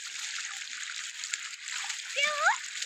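A child splashes and plays in water, with light splatters and sloshes over a steady background wash and a brief high-pitched child's vocal sound near the end.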